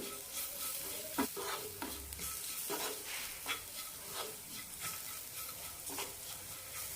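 Turmeric, chili powder, garam masala and roasted coriander powder are stirred and roasted in a pan, giving a soft continuous sizzle broken by repeated scraping strokes of the spoon, close and alone.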